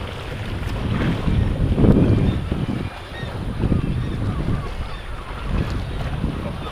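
Strong wind buffets a seaside spot during a lure fishing session, a continuous rough, gusting roar that swells and eases, loud and close throughout.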